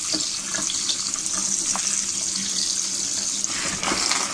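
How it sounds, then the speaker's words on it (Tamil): Sugar snap peas are rinsed under a running kitchen tap, a steady broad hiss of water splashing into the sink with faint irregular clicks of pods being handled, close and continuous for the whole stretch with no talking. "நல்லா வாஷ் பண்ணிக்கோங்க டேப் வாட்டரில்."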